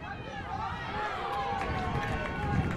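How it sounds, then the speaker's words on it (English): Animated crowd at a Queensland Murri rugby league carnival match roars steadily in the background, a broad, sustained wash of cheering at moderate distance, with a commentator talking over it. "Hear the crowd in the background."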